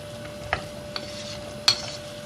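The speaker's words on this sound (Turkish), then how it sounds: "İyice karıştıralım. 1 dakikaya yakın baklaları da kavuralım." Fresh broad beans stirred and roasting in olive oil, a soft sizzle bed broken by a few sharp utensil scrapes and taps against the pan, close and quiet, no speech.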